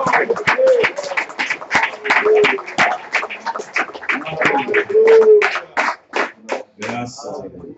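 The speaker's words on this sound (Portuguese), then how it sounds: "Palmas para o Senhor Jesus." A church congregation claps in a steady rhythm, rapid sharp hand claps together with singing and voices, close and lively, then tapering off near the end.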